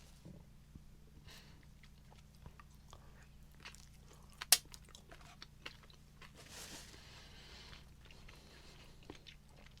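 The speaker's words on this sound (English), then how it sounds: "These are crunchy. You got to work through these." Crunchy corn nuts from an MRE, eaten with chicken and tortilla, chewed in a steady run of close, dry crunches and bites over a low background hum, with one sharper crack partway through.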